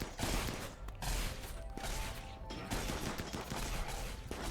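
Rapid gunfire from a modded Rimworld Royalty colony battle, dense overlapping shots crackling continuously at a steady loud level throughout, with no clear voices over it.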